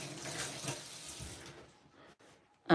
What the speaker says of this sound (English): So I'm going to wash my hand now